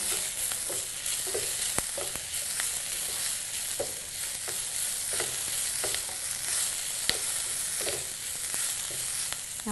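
Ivy gourd curry being stirred in a pan, a spoon scraping and turning it at a regular pace over a continuous soft sizzle, close and alone.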